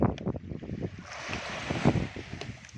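Sea waves wash onto a sandy hotel beach in Dahab, Egypt, a steady, fairly loud surf roar with rising swells, mixed with gusty wind buffeting the microphone and no talking.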